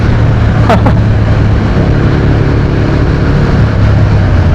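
A Triumph Speed Twin 900 motorcycle engine drones steadily while riding in fourth gear, a loud, continuous close rumble mixed with wind noise and a couple of brief sharp clicks early on.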